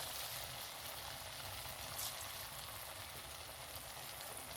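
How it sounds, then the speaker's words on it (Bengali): Palm fruit sweets sizzle in lightly heated oil in a wok, giving a faint, steady hiss with fine crackle and no talking. "কড়ার তেলটা হালকা গরম হয়েছে এবার আমি মিষ্টিগুলো কড়ার মধ্যে ছেড়ে দেবো এক এক করে"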